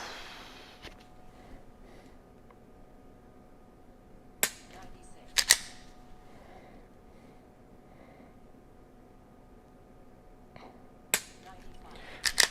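Handgun dry-fire practice with a Mantis X trainer: a few sharp, isolated clicks spaced seconds apart, faint and close in a quiet indoor room.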